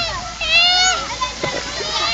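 A child swims and splashes in water, with a few close, bright splashes under excited child vocalizing and an adult voice.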